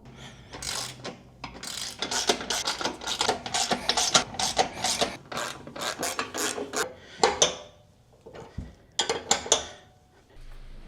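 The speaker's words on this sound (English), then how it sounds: "I'm going to go through with my socket and tighten everything down." A socket wrench ratchets bolts tight on a hitch-mounted electric bike rack, with close, rapid bursts of clicking and rasping separated by short pauses.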